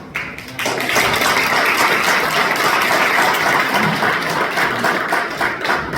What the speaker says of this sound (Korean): 모두 큰 박수로 격려해 주시기 바랍니다